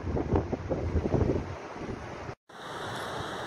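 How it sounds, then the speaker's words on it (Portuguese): Strong wind from a waterspout over the sea in Rio Grande do Sul, roaring steadily as broadband rushing noise with gusty buffeting on the microphone, briefly cutting out before resuming. "Olha o tufão de vento aí, Ana, em mar aí."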